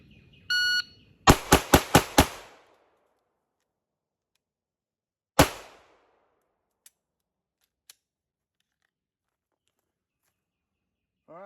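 A Glock 34 pistol fires five rapid, close, loud shots at a 5-yard target, followed by one more sharp shot a few seconds later and a couple of faint clicks, with no talking.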